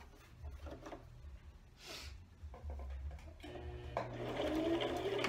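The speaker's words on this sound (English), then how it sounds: "I'm going to go back to the sewing machine and I'm going to top stitch." A sewing machine top-stitching a baby burp cloth runs in quiet bursts, its needle mechanism whirring steadily, growing louder and busier toward the end.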